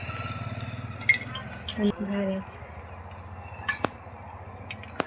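Fenugreek leaf vegetable (methi bhaji) frying in a pan, a steady soft sizzle with occasional stirring and utensil scrapes and a couple of sharp clicks, fairly close, with no talk over it.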